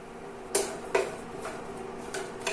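Pecans toasting in a skillet are stirred, giving a few sharp clinks and scrapes of a utensil against the pan at irregular intervals over a low, steady background.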